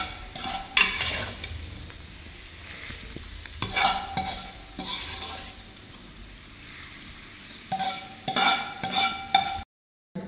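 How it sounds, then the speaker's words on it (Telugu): Gongura chutney being mixed with dried red chillies in a pan: bursts of scraping and stirring over a faint sizzle, with quieter pauses between strokes and a brief dropout near the end. "దీన్ని మనం మంచిగా కలుపుకున్నాము."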